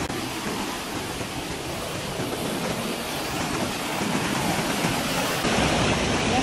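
Steady rushing cold river water flows nearby in Swat's Kalam Valley, a dense broadband hiss with no pauses and no voices.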